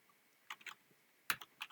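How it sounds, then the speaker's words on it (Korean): Computer keyboard being typed on during a spreadsheet lesson, a few scattered clicky keystrokes in small bursts, fairly faint and close, with no talking. "여기다 직접 타이핑 쳐볼게요"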